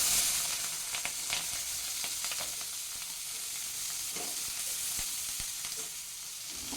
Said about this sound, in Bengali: এখন এই তেলের মধ্যেই আমি দিয়ে দিচ্ছি এই যে কাটা সবজিগুলো